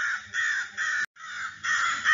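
Cartoon crow cawing in an Urdu children's story, a loud harsh repeated caw in several bursts with a brief gap midway, heard alone with no talking.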